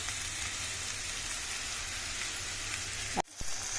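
Bitter gourd fries in oil in a pan, a steady close-up sizzle that continues evenly before a brief knock and a sudden drop near the end.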